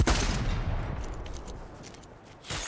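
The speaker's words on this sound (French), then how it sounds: "Il tire d'en haut!" Rapid gunfire in Fortnite from an enemy shooting down from above, a loud fusillade of close, clattering shots that thins into scattered pops and then picks up again at the end.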